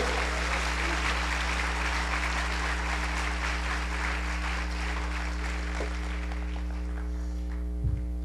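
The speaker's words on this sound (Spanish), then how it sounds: "Denle un aplauso bien fuerte al Rey." An audience claps loudly and steadily for several seconds in a large room, a dense and continuous wash of hands that fades a little toward the end, with a strong hum running underneath.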